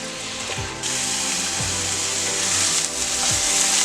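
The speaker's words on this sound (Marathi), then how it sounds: "आता गॅस फुल करूया आणि 2 ते 3 मिनिटं परतून घेऊया" Bottle gourd halwa stir-fried in a pan on full gas, a spatula scraping the pan in slow repeated strokes over a constant soft hiss.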